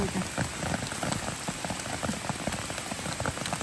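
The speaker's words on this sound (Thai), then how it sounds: "ฝนตกอีกก็ยากหน่อย" Rain falls in a forest, steady pattering drops on leaves and surfaces forming a constant close hiss with scattered sharper taps.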